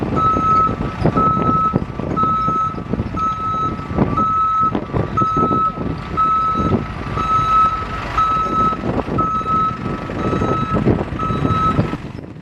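Truck creeping slowly alongside protesters, its reversing alarm beeping in a steady, regular rhythm over a low engine rumble and diffuse outdoor street noise, with no talk.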